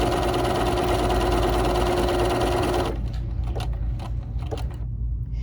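A BERNINA 3 Series sewing machine stitches a decorative stitch, a fast steady mechanical whir close up for about three seconds, then it stops and a few light clicks and taps follow in quiet.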